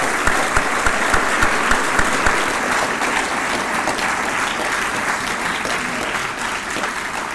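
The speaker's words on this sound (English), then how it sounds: "How about a round of applause for these folks who were willing to be a little bit revealing?" An audience at a school district candidate debate claps steadily in a sustained burst of applause, dense and loud from start to finish, slowly thinning near the end.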